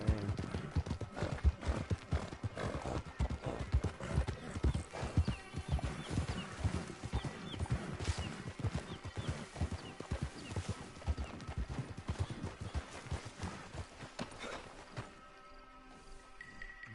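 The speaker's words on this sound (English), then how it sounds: "Get that horse hidden away, Clive, and ready to move out" Horse hooves clip-clop in a quick, steady rhythm through the Red Dead Redemption 2 game world, close and fairly loud, easing off near the end where a whinny rises, with no speech over it.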